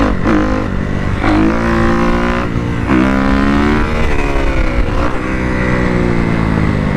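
Motorcycle accelerating hard in fifth gear without the clutch for power wheelies, loud and close, with repeated rising engine surges and brief dips between them, no talking.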